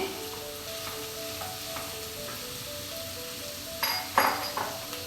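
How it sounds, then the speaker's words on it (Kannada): Cauliflower goes into a frying pan for a low-oil crispy gobi fry and sizzles steadily throughout, with a few clinks of a utensil against the pan near the end and no talking. "ಈ ಟೈಮಲ್ಲಿ ನಾವು ಕಾಲಿಫ್ಲವರನ್ನು ಆ್ಯಡ್ ಮಾಡ್ಕೊಳ್ತೇನೆ."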